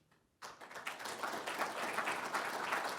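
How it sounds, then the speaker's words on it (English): Audience applause at a lecture honoring Jeff Williams with a plaque, starting abruptly after a brief quiet moment and continuing as a steady, dense wash of clapping to the end. "We'll get another big applause here"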